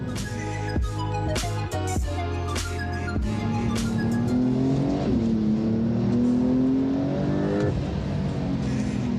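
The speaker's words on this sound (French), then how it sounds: "Le moteur 650 chevaux. À peine on accélère, on est vraiment collé dans le siège." A 650 hp four-wheel-drive car accelerates hard, engine note climbing through the gears with sharp shift breaks early on, then a long rising pull, heard loud from close by.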